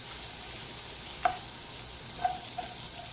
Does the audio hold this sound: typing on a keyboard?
no